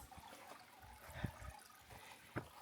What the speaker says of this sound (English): And right off the road here, there's a nice little brook.